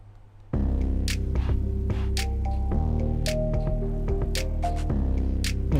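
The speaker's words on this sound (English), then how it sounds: "you can sort of hear that synth instrument sort of just slowly creeping in towards the end of that" A synth instrument slowly creeps in under a full music mix, sustained tones gradually rising among steady layered chords and plucked notes, with no voices over it.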